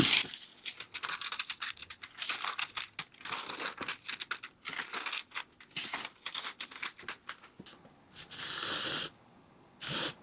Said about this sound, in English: We'll put a parchment paper on top.